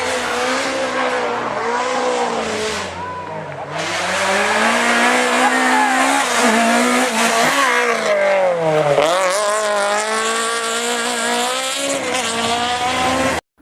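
Citroën Saxo Kit Car rally car racing hard, its engine revving up and down in repeated sweeps with tire squeal and skidding, loud and close throughout.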